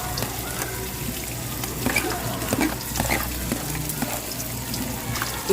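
Pork fat fries and gets stirred in a pan, a steady sizzle broken by the scrape and clink of a utensil moving the pieces, close and continuous.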